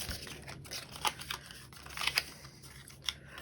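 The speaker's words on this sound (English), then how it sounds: "I really am just dragging my X-Acto knife along the area" An X-Acto knife dragged across cardstock along a straight line for card making, with soft, quiet scraping strokes and a few small ticks and clicks close by.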